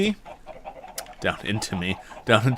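Several short clucks and squawks from video game chickens in Minecraft, close and fairly loud, coming in quick irregular bursts.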